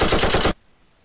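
Browning machine gun in a Minecraft WW2 gun mod fires a rapid, loud, continuous burst for about half a second, then cuts off abruptly into near silence.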